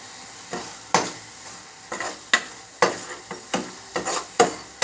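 Food frying in a pan while being stirred, with a soft background sizzle broken by about a dozen sharp scraping strokes of a utensil against the pan, coming in an irregular rhythm at close range.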